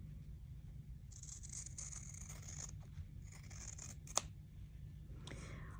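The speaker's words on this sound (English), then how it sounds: "trim off your corner from underneath, leaving a 1/4 inch seam" Scissors trimming a fabric corner off a quilt block, a few quiet crisp snipping and cutting runs with a soft click, close and faint over a low background hum.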